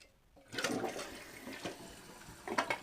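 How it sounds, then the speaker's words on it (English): A household toilet flushing with a quick, low-water flush: a close rush of water surges in after a brief pause, swirls and drains for a couple of seconds, then surges again as the tank starts to refill, with no talking. "now here's the quick flush."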